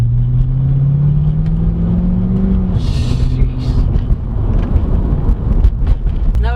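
A 2012 Chevrolet Corvette C6 Grand Sport on the move, its engine a loud steady drone that rises and shifts in pitch, with constant road rumble and wind noise throughout.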